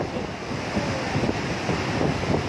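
Heavy water released through open dam gates, a steady loud roar of rushing water with wind buffeting the microphone and no voices.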